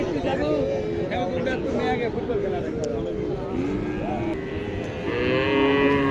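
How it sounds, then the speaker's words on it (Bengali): Water buffalo bulls and heifers low and moo at a busy village livestock market, repeated calls over a dense crowd murmur, with talking throughout. "তো এখানে ষাঁড় মহিষ"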